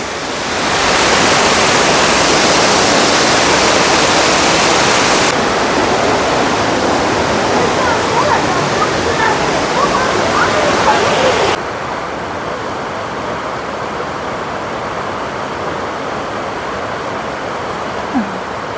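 A waterfall near Tatev monastery roars loudly and close, a dense unbroken rush of falling water and blowing spray that drops somewhat in level partway through.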